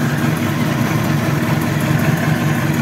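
A Honda CBR1000RR SC57 sport motorcycle engine idles steadily and evenly with a constant, throaty rumble, no revving, close to the listener.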